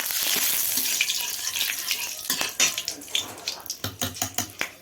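Whole garam masala, two bay leaves and dried red chillies dropped into hot mustard oil in a kadai, giving a loud, steady hiss and sizzle that eases into a string of crackling, spitting pops.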